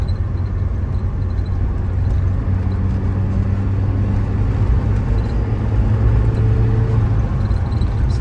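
A 1987 Saab 900 Turbo engine pulls steadily while driving, a loud, continuous droning hum with a rising tone partway through.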